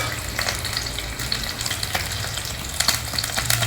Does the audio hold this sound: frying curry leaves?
yes